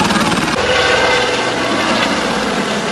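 Helicopter engine and rotors at Hampi, a loud, steady, close drone that fills the whole stretch without breaks.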